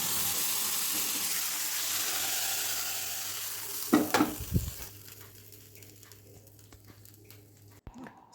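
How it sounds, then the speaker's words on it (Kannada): Hot oil sizzles loudly as spices are added for oggarane tempering in a pan, a bright frying hiss with a burst of crackle, then the sizzle subsides into a low, quieter simmer. "ಒಗ್ಗರಣೆ ಕೊಡತ್ತಂದ್ರೆ"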